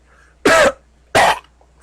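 Two harsh, close coughs spaced about half a second apart, rendered for a griffin during a spoken audiobook reading, loud against a quiet background.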